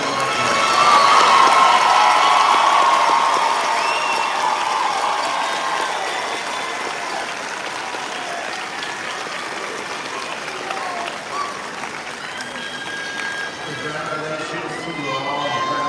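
Graduates at a fall commencement receive a big round of applause, a loud sustained crowd roar of clapping mixed with cheers and shouts that eases slightly but carries on throughout, with some voices in the mix.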